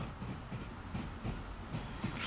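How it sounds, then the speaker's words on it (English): Double Class 390 Pendolino passing in Train Sim World, a faint steady rolling rumble with soft rhythmic clatter and hiss, distant and continuous. "Oh look, we got a double pendolino."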